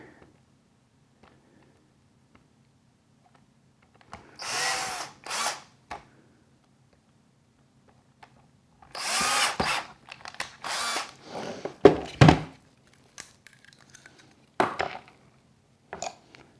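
A power drill opening up a clearance hole in a boat guide post lamp, in short bursts of whirring with gaps of quiet between, near and fairly loud.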